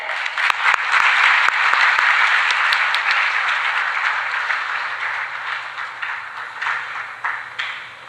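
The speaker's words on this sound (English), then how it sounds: "in a round of applause that can shake the heavens" An audience at an international CA student conference in Pakistan applauds to welcome the chief guest, a loud, dense wash of clapping that holds steady, then thins and fades slightly toward the end.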